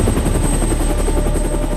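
A helicopter in flight, with loud, close, continuous rotor chop and a steady high whine over a heavy low rumble throughout, and no voices.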